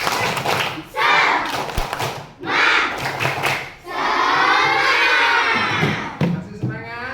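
A classroom group of children performs a rhythmic clapping chant together, loud bursts of shouted voices and claps in quick patterned sections, with a thud partway through.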